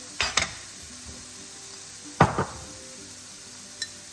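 A spoon stirs the mixture for chicken Marsala in a pan over low heat, making a few brief scraping strokes against a soft, steady sizzle, with no talking.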